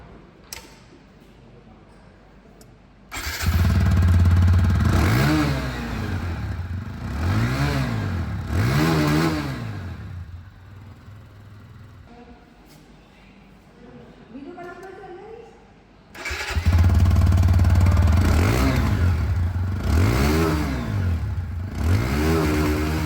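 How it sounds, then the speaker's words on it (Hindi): Exhaust notes of 2023 TVS Apache RTR 160 2V and Apache 180 OBD-2 BS7 motorcycles revving up in repeated bursts, close and loud, with a quieter idle between the runs. "दोनों ही बाइकों की जो एग्जॉस्ट साउंड है"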